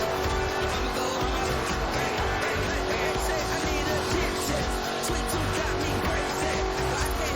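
A Jaguar Project 7 sports car drives in the racing game Forza Horizon 4, a loud, steady engine roar with road and tire noise that runs unbroken through the clip.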